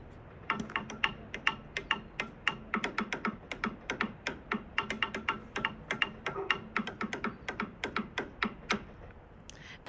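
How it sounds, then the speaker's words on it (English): Sticks drumming a fast beat on an outdoor bench produce dense, crisp wooden taps in a steady rhythmic pattern, close and clear with no talking. "The next one is the bench, and I made this beat."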